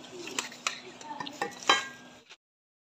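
A potato and eggplant curry is stirred in a pot, with repeated spoon scrapes and clinks against the metal over a faint sizzle, ending abruptly in silence.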